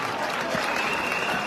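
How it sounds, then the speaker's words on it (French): Applause from an audience in a hall at a Gabonese civil society political gathering, a dense steady clatter of clapping for 1.5 seconds with no break. "je vous demande d'applaudir"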